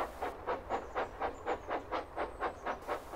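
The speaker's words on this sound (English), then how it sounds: "As the train had come to a complete stop, the crew inspected Gordon to see what was the matter." Steam locomotive pulling a train, rhythmic chuffing exhaust beats with hissing steam, about a dozen evenly spaced puffs at moderate volume, heard alone without talk.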